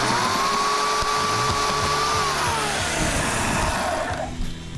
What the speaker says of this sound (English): Oh yeah, that's a chainsaw.